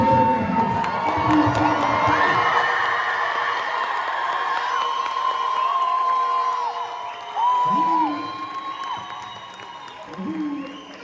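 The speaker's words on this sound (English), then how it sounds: "children are scared because we're shouting for freedom" Protest crowd at a rally in Cardiff, Wales, shouting for freedom, a loud mass of voices and cheers that swells, then thins into scattered shouts and whoops outdoors.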